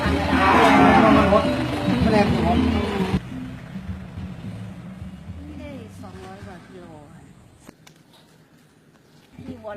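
Cows on a farm give long, loud moos up close at the start, followed by quieter lowing under people talking and background noise.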